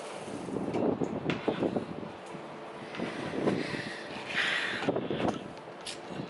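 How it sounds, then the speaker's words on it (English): Gusty outdoor wind buffets the microphone in uneven rumbling swells, with a few faint rustles and brief bright noises mixed in; nobody speaks. "It's so windy."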